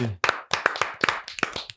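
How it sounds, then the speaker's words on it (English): A single person claps hands slowly and deliberately, about eight close, sharp claps in an uneven rhythm, loud and alone in a podcast studio. "Labored clap."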